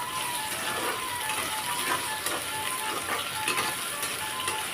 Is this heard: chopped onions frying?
yes